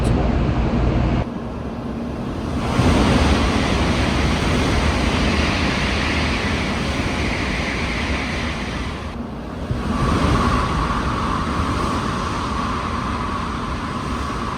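A Shinkansen Kodama bullet train, running between Toyohashi and Nagoya in Japan, roars steadily from inside, a loud broadband rush that dips and surges as pressure shifts, with a faint whining tone later.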